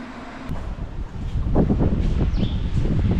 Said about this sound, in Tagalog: So, medyo mahangin pa rin yung panahon dito.